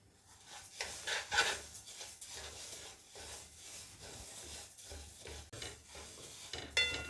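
Sesame seeds dry-roasted in a pan for a Jaffna-style sesame sweet, stirred with repeated scraping and rasping strokes, close and moderately quiet, in an irregular rhythm with a few sharper clinks.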